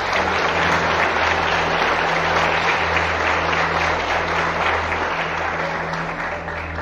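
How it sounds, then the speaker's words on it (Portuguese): A church congregation claps loudly and continuously, a dense even wash of many hands close by, with a steady low hum beneath and no break until it eases slightly at the end. "Vamos aplaudir o Senhor Jesus?"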